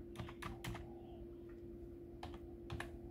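Keys clack on a computer keyboard in short bursts of quick taps separated by pauses, close and fairly quiet over a faint steady hum, with no voices.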